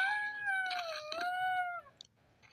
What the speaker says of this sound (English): he's howling right in front of my door